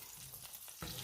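Sausage browns in a pan, giving a steady close sizzle and crackle that jumps louder near the end, with no voices.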